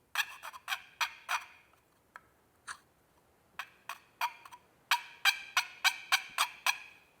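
Homemade wooden turkey box call played without its lid attached, producing close, sharp raspy yelps in quick bursts of several notes with short pauses between, loud and alone with no talk.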